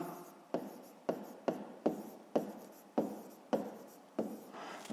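Pen or pencil writing by hand on paper while working a fifth-grade maths exercise, a series of about nine close scratchy strokes, each starting sharply and then tailing off, with no talk.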